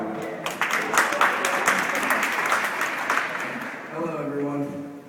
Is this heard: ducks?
no